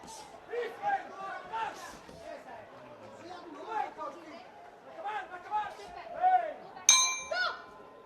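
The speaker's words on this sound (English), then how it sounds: "So bell goes at the end of the first round." A boxing bell clangs at the end of the first round of a 57 kg amateur bout at an IBA 2025 event, ringing out near the end above crowd chatter and a commentator's voice.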